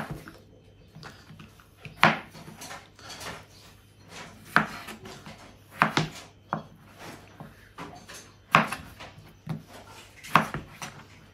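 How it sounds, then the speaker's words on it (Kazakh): Sharp knife strikes on a cutting board while chopping potatoes, spaced irregularly a second or two apart, close and fairly loud, with faint rubbing sounds between them. "картошкамызды турап аламыз"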